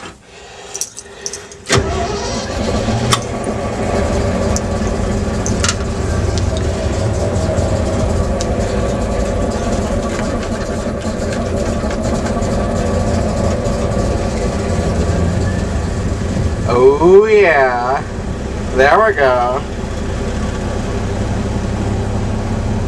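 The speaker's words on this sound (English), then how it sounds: "The engine is running." A 1977 Superior/Ford B-700 bus engine cranks and catches, then settles into a steady rumbling idle around 1900 RPM; a voice speaks briefly, and the engine revs up twice near the end.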